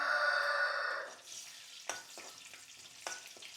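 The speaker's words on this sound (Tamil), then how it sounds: "எண்ணெய் கொதிச்சு வந்துட்டுது இப்போ வந்து பெருஞ்சீரகம் வெந்தயம்" Fennel and fenugreek seeds hit hot oil in a pan for Indian-style okra gravy, a bright crackling sizzle that fades after a second into quieter popping and a few sharp clinks, with no talk.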